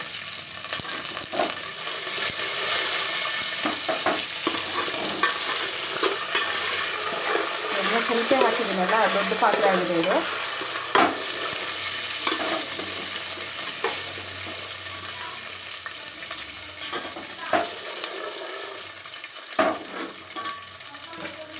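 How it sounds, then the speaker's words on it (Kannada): Peanuts, curry leaves and crushed garlic fry in oil in a large pan, a loud continuous sizzle with frequent sharp pops and spatters, while a person talks over it and a spoon occasionally clinks. "ಓಕೆ ಇದು ಸಿಡಿತಾ ಇರುತ್ತೆ ಅದಕ್ಕೆ ಹುಷಾರಾಗಿ ಇದು ಮಾಡಿ"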